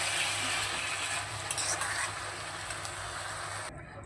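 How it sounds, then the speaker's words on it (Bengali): Spinach with sugar and fried bori stirred in a pan gives a steady, soft sizzle with faint scraping throughout, cutting off abruptly near the end. "এবারে ভালো করে নেড়ে চেড়ে পালং শাকটাকে নামিয়ে নেব"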